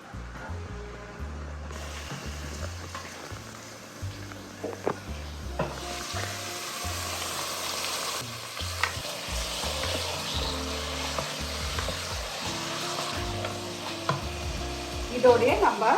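Mutton frying with browned onions in a pan, a loud broad sizzle that swells as the meat goes in, with occasional stirring knocks and scrapes, close and continuous without speech.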